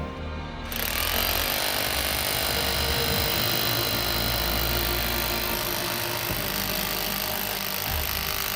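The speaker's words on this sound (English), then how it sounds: "Now let's start up this 2200-watt demolition hammer." A 2200-watt electric demolition hammer, powered by a homemade solar panel, starts up after a brief moment and pounds continuously, a loud, rapid mechanical hammering that runs steadily to the end.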